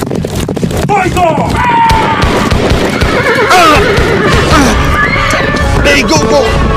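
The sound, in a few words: horse neighing in a drama scene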